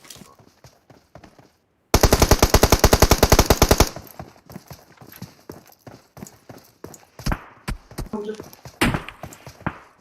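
A burst of rapid automatic gunfire from a TLR weapon in a shooter video game rattles loudly for about two seconds, followed by scattered single shots and distant firing.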